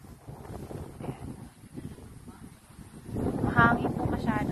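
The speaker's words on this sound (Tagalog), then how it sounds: "Mahangin po masyado." Strong wind buffeting a microphone outdoors on a vacant plot of land, a rough, rumbling roar that swells louder near the end while a person speaks underneath.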